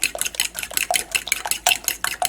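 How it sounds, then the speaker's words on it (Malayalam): Eggs, sugar and vanilla extract whisked together in a bowl for pudding, a steady run of quick rhythmic clinks and scrapes against the bowl, close and fairly loud, with no talking. "ഇത് 3 കൂടിയിട്ട് നമുക്ക് നന്നായിട്ട് മിക്സ് ചെയ്യാം."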